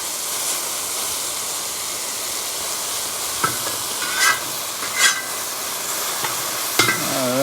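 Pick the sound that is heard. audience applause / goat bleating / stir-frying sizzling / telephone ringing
stir-frying sizzling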